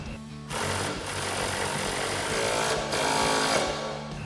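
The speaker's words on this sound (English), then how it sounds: "Grab our impact with a 19mm socket and a 19mm wrench and tighten that down." An impact wrench fitted with a 19mm socket tightens a nut on a shock mount while lowering a RAM 1500 pickup, a loud continuous buzzing rattle that runs nearly four seconds with brief dips, close by and alone.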